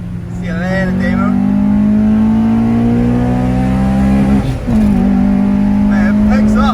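An EJ9 car with a swapped Honda B16 engine accelerates hard, its engine note climbing steadily in a loud, close in-car drone. There is a brief dip around a gear change, and a voice speaks over it.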